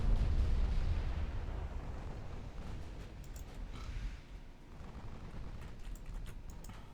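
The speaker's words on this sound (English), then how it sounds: "my battleships I should say, are lobbing shells at Corona there" Battleship guns fire shells in the naval video game Ultimate Admiral Dreadnoughts, a faint, rolling blast that decays into a low, rumbling wash of distant booms with no talking.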